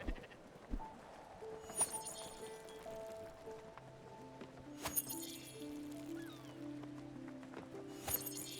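Sheep bleat in the farming game Spiritfarer, a few short cries scattered over quiet background music.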